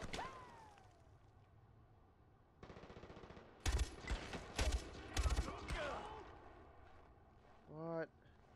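Bursts of automatic gunfire from Far Cry 4 combat, several sharp volleys in quick succession aimed at the player, set against a steady game background with a rising whine near the end.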